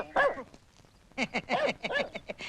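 A dog barks close by in a Malayalam film comedy scene: one bark, a pause, then a rapid run of short, excited yapping barks.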